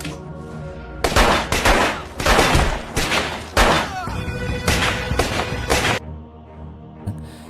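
Rapid bursts of gunfire erupt in a loud, dense volley, several clustered shots repeating over a few seconds before cutting off to quiet.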